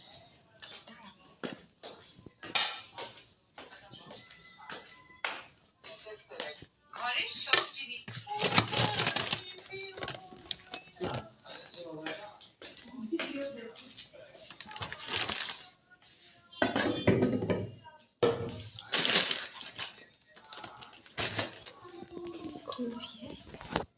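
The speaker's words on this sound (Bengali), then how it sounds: "প্লেট নিতে এসেছি রান্নাঘরে" Plates being taken out in a kitchen, with intermittent ceramic clatters, clinks and rummaging knocks, some loud and close, mixed with someone talking throughout.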